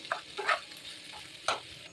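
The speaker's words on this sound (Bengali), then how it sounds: "এগুলো দিয়ে এটাকে একটু ভালো করে না নেড়ে নেবো" A spoon stirs spices, salt and sweetener into a papad snack mix in a pan, giving a few soft scraping strokes and light clatters over a quiet background, with no one talking.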